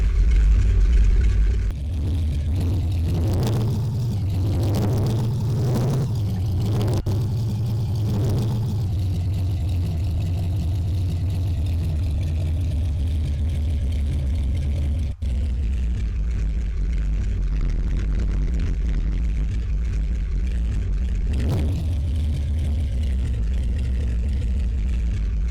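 A car with its muffler missing runs loud and raw, with several sharp revs early on, then settles into a rough, throbbing idle that carries on steadily to the end.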